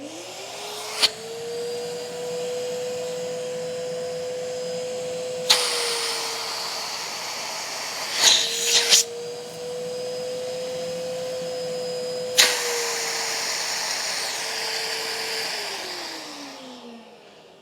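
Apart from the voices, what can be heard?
Hoover Windtunnel S3641 canister vacuum cleaner running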